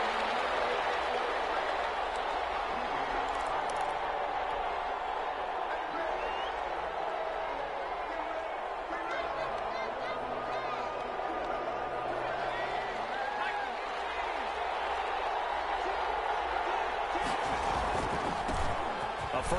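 Stadium crowd roar at an NFL game between the Cleveland Browns and Detroit Lions, a dense constant wash of cheering that stays steady throughout while a commentator talks over it.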